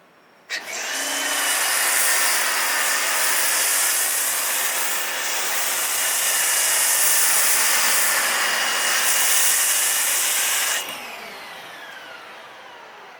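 A foam cannon sprays ABOSun Mini MJJC foam shampoo, a very thin car-wash soap, in a steady loud hiss that holds for about ten seconds, then cuts off abruptly. Nobody speaks.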